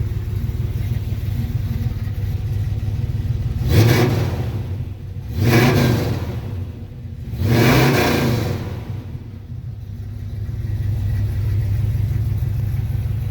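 A 1985 Chevy K10 4x4 engine idles nearby at a steady rumble, broken by three strong revs that swell and fall back to idle, with no voices.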